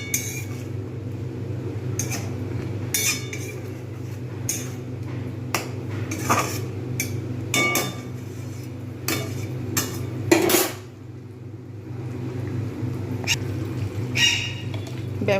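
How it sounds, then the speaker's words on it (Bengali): A spoon scrapes and clinks against a pot while biryani ingredients are stirred for chicken dum biryani, giving a series of irregular close taps and scrapes over a steady low background hum. "এবারে আমি এগুলো সব ভালো করে কষাবো।"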